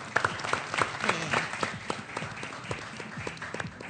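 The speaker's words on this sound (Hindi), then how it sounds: "तालियां हिबा के लिए।" A studio audience on a Pakistani cricket TV show applauds for Hiba, a moderate steady clapping with scattered louder claps, while voices talk faintly underneath.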